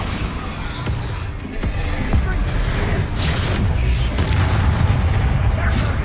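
Bombarda explosion spell in Hogwarts Legacy, deep booming blasts and bursts layered over continuous loud battle noise, with a voice shouting over the chaos.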